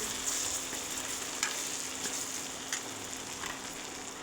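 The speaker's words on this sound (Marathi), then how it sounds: "हे मसाले झाल्यानंतर आता एकदा आपण मिक्स करून घेऊ।" Spices being stirred into vegetables frying for a Bhogi mixed-vegetable curry, a soft, steady sizzle with occasional light scrapes and clicks of stirring, quiet and close.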